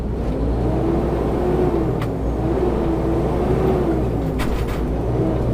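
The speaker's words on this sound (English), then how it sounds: "Whenever I want to change gears and the fan is running, you know, the engine fan is running" Truck cab interior with a steady, loud engine and cooling-fan drone, a continuous low roar with a slowly wavering tone, no talking.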